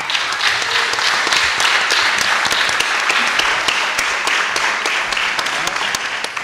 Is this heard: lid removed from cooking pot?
no